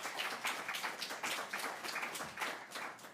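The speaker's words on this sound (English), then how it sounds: "Huge applause." Audience applause at a finance forum, a steady wash of many hands clapping at a moderate level throughout, with no voices over it.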